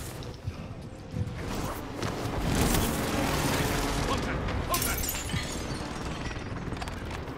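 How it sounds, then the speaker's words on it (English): Airstrike explosions rumble through a tense video game firefight, a sustained, dense roar of booms and debris that swells around the middle and holds loud to the end, with voices talking over it. "Airstrike."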